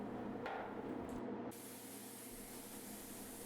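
A spray gun hisses steadily as it lays waterborne base coat paint onto a car panel, close and continuous, with a short louder burst before it settles into an even spray.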